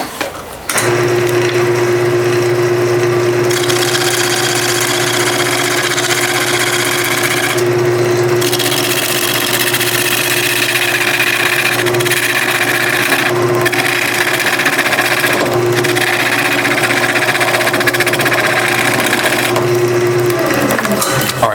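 Wood lathe spinning steadily while a 55-degree chamfered chisel cuts the workpiece, a loud continuous motor hum with a rough scraping cut layered over it and brief changes as the tool lifts and reengages.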